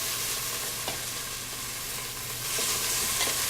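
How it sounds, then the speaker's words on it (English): Vegetables frying with ginger paste in a hot pan give a steady, close sizzle with faint stirring scrapes and small pops, and no one speaks. "I'm going to add the ginger paste to it. And now I'm going to add all the vegetables to this."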